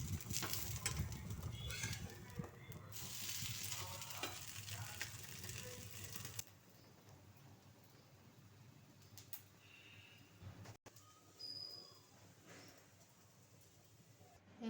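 A dosa fries in a pan with a tempering of salt, chili, turmeric, sugar, curry leaves and green chilies. It sizzles loudly for about six seconds, then drops to a quieter, fainter crackle.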